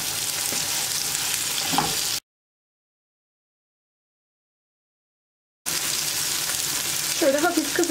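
Tomato slices sizzle and spit steadily in a hot pan over high heat, a close, even frying hiss that drops out into silence partway through, then resumes.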